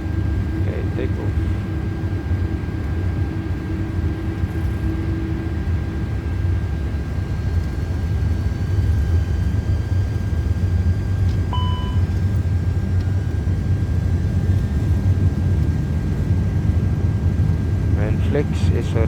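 A Qatar Airways Airbus A330 in Microsoft Flight Simulator 2024 roars steadily with a low jet-engine rumble during takeoff, loud and constant throughout, with a faint high tone and brief cockpit chimes.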